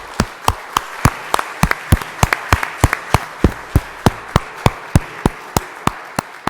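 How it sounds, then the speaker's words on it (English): Round of applause at a town board of commissioners meeting, sounding like a few nearby people clapping sharp, evenly spaced claps in a steady rhythm over a faint background of more hands. "give, like Commissioner Tucci said, the guys in the back, the Nutley American League, I see our president there, all the administrators, a round of applause"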